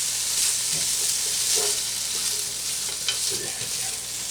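Goulash with pepperoni sizzling and being stirred back and forth in a pan, a steady close frying hiss with soft scraping stirs throughout, and a brief spoken remark.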